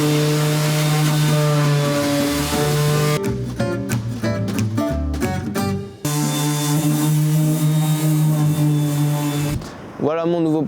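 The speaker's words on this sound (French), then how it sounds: "tout poncer directement, grosse machine pour poncer et y aller mollo mais tout retirer quoi" A large power sander strips the body of a camper van under renovation, a loud steady grinding drone with shifting harmonic tones, briefly broken by a choppier stretch and a short pause near the end.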